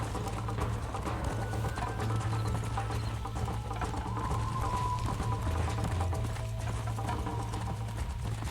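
Horse hooves gallop in a steady, rapid clip-clop rhythm in Red Dead Redemption 2, loud and continuous over a low rumble of game ambience.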